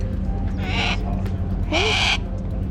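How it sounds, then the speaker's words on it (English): A Harris hawk, a falconry bird used for bird control on a waterfront, gives two loud, harsh rasping screeches about a second apart over a steady low background hum. "It's a falconry bird. It's a Harris hawk."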